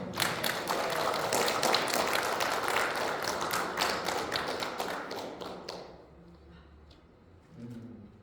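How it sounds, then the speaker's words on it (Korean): A church congregation at a Sunday worship service claps together, a dense burst of many hands that holds steady for several seconds and then dies away into near quiet, with a faint thump near the end. "박수를 한번 해주세요"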